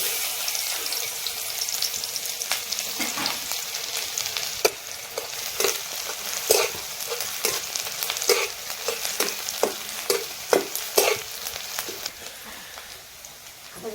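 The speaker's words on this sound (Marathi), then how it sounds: "आता आपण कांदा त्याला म्हणजे परतून घेऊ" Onion sizzles and fries in a pan with turmeric, mustard seeds, curry leaves, peanuts and spices, a steady hissing sizzle broken by sharp clicks of stirring.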